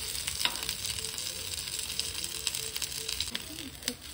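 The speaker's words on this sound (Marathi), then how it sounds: "हे मीडियम फ्लेमवर मी आलटून पालटून दोन्ही बाजून छान हे भाजून घेते" Broccoli tikki shallow-fry in ghee over a medium flame, giving a steady, fairly quiet sizzle with small pops and crackles and occasional light clinks as the patties are turned.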